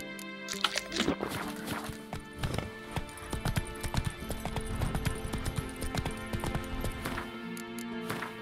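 Hooves of Roach, a horse in The Witcher 3, clip-clop steadily at a walk through the whole stretch, close and fairly loud over a busy game background, with a brief whinny early on.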